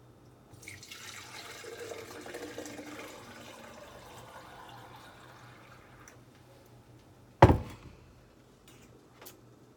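Kombucha pours through a strainer, trickling softly for several seconds, then tapers off, followed by a sharp clunk and a faint later tap.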